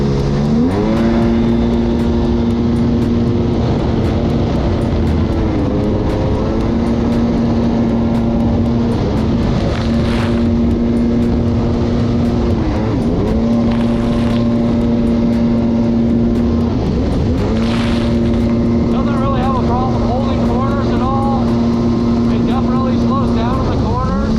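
Yamaha GP1200R personal watercraft with sponsons up, its engine droning at a steady high pitch and dipping briefly in revs every few seconds, with spray and water noise under continuous close, loud running.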